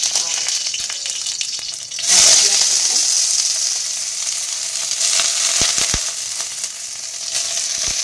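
Dried red chillies and onions fry in hot oil with a steady, loud sizzle that swells sharply after the first couple of seconds, broken by a few short clatters of stirring.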